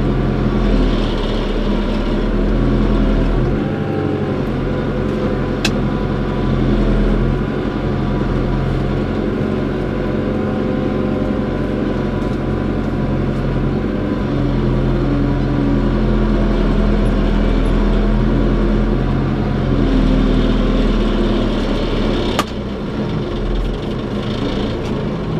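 Case JX110 tractor pulling a 5-furrow number 10 plow through a muddy rice field, a loud, steady engine drone with deep rumbling and occasional clanks, heard up close for the whole stretch.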